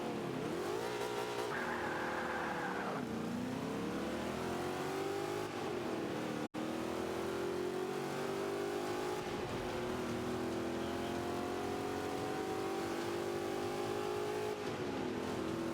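Plymouth Barracuda engine in a racing video game revs and roars continuously, loud and close, with rising and falling pitch as it accelerates and shifts through gears.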